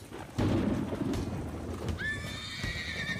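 A frightened horse whinnies loudly near the end over a background of galloping hooves and rumbling storm noise of wind, rain and thunder.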